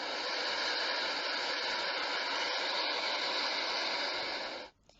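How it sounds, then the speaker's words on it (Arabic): A sea waves sound effect plays as a steady, loud, hissing roar of surf that holds level for several seconds with no talking, then cuts off abruptly. "دي صوت لصوت البحر"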